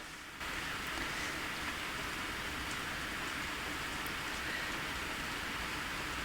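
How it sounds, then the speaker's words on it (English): Steady, dense hiss of heavy rain falling just outside an office window, continuous and even throughout with no voices. "it's raining pretty hard just outside my office window"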